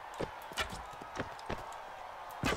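Horse hooves from Mount & Blade Warband, heard as sharp, separate clip-clop thuds spaced irregularly over a quiet background, close and fairly clear, no voices.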